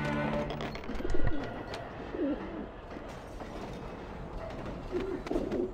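Pigeons cooing in the video game Alice: Madness Returns: several soft, rolling coos at moderate distance rise and fall over a steady hum of in-game ambience.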